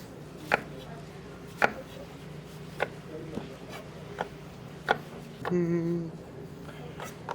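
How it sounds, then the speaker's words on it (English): A knife slicing apples on a cutting board for fruit pie: steady, evenly spaced crisp chops, moderately close, with a brief voice murmuring near the end. "while you peel, I'll start slicing"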